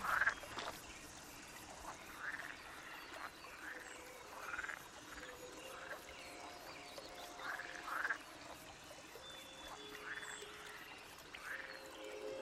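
A frog croaks repeatedly in short, evenly spaced calls, fairly faint against a quiet background with no talking.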